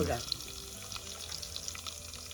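Mustard seeds and cumin crackle in hot oil in a pan on a wood-fired clay stove, a faint, steady spitting sizzle with light scattered pops throughout.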